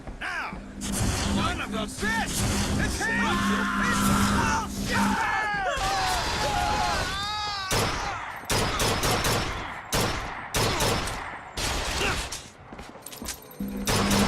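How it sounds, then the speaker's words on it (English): Repeated sharp gunshots in Bioshock Infinite, fired by a turret, come in fast, loud, closely spaced cracks throughout amid a chaotic firefight with other effects, while someone talks over the action. "there's a turret as well that's shooting at us"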